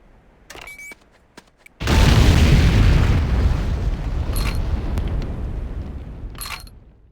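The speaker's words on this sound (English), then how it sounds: "move to a safe distance before detonating with your secondary fire" An explosive charge detonated in the Command & Conquer Renegade video game, a few sharp clicks followed by a sudden loud boom that rumbles heavily and slowly fades over several seconds.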